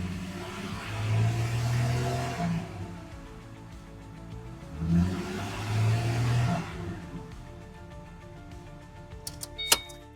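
Car engine revved to around 2,500 RPM during an exhaust back-pressure test for a clogged catalytic converter, rising in two swelling revs from idle, then settling back, with a few clicks at the end.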